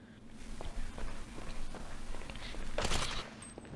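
Rocket fired in the video game GTA inside an abandoned mineshaft, a loud broadband whoosh and blast over a rumbling game background with faint scuffing steps.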